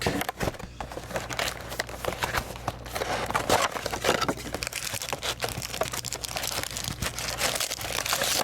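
Plastic wrap crinkles and tears off a Panini Pinnacle hockey card hobby box, close and crisp, with steady rustling and scattered crackles throughout and no speech.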